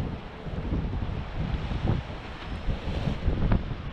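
Wind gusting on the Bristol Channel shore at Hinkley Point during a high-tide fishing session, a steady roaring buffet across the microphone with surf-like swells that strengthen around the middle and near the end, with no voices.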